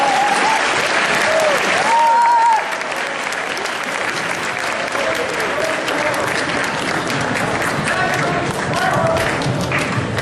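An audience at a high school presentation on distracted driving claps to welcome a speaker. The applause is loud and close and carries on for about ten seconds without fading, with a brief voice over it at the start.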